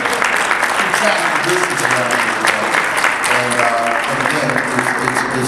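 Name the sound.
audience applause at honoree dinner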